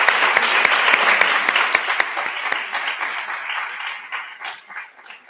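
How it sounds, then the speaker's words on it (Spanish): An audience applauds after a conference lecture, sharp hand claps loud at first and gradually fading and thinning out over several seconds. "Vamos a darle un aplauso"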